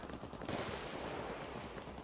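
Rapid gunfire in the video game Payday 2, a faint, continuous rattling burst of shots like automatic weapon fire lasting about two seconds, without speech.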